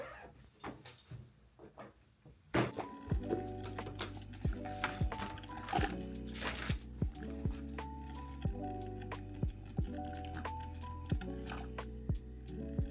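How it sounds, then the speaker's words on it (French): A coffee maker runs close by with a steady low hum, sputtering gurgles and repeated squishing clicks, starting after a quieter stretch of soft knocks. "Désolée pour le bruit, c'est le bruit de la cafetière juste à côté."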